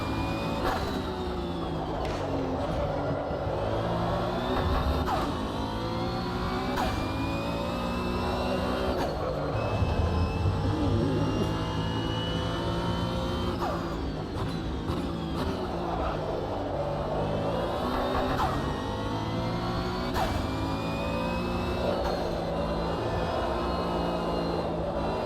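A Praga race car in the Rennsport racing game, its engine revving and shifting through gears with rising and falling whines, loud and continuous for about 25 seconds without any speech.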